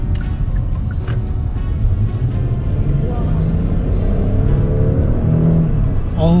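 Cabin sound of a large luxury rear-wheel-drive sedan, a Genesis or Kia K9, accelerating on the road: a constant loud engine and road rumble with a rising tone near the end, and a voice talking over it.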